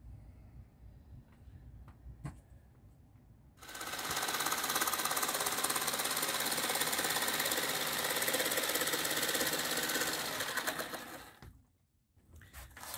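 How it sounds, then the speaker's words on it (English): A jigsaw cuts during a self-build Iveco Daily minibus conversion, a loud continuous buzzing run of about eight seconds that starts abruptly and stops sharply, close by, with quieter background noise before and after. "So I'm letting Darren have a go of my jigsaw."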